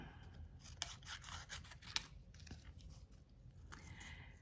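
Scissors snip through translucent vellum paper nearby in a quiet room, giving a few soft, crisp cuts spread across the stretch.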